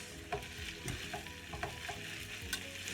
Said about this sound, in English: I use Kerrygold butter. I'm going to kind of let that melt down.